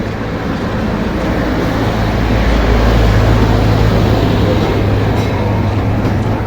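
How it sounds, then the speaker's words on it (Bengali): A loud, steady rumbling roar of a train running past, continuous and close, with no talking over it. "দেখো ট্রেন আসতেছে।"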